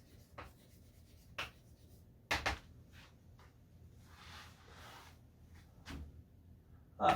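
A lecturer writes a theorem on a board in a quiet room: faint scratches and scattered sharp taps and strokes come at irregular moments, with a brief soft rubbing passage in the middle.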